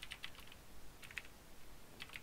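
Someone typing code on a computer keyboard, soft clusters of key taps in short bursts with pauses between, faint and close against a quiet background hiss.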